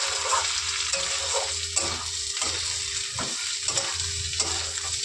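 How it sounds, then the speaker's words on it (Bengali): Dal sautéing in a pan for khichuri, a continuous loud sizzle with a regular rhythm of stirring scrapes roughly every half second, with no voices. "এবার ডালটাকে ভালো করে কষিয়ে নেব।"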